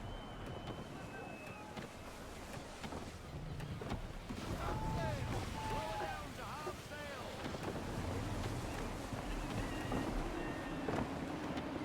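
Gusty wind while sailing a ship in Assassin's Creed 3, a continuous rushing roar with surf and creaking under it and brief tonal calls on top.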